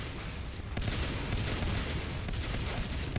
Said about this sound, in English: All of Quaxy with level 3 shotguns here.